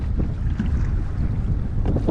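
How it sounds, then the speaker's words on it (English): Strong wind blows across the water during kayak fishing for fluke, a steady, loud rumbling buffet against the microphone with no voices. "This wind is really starting to ratchet up."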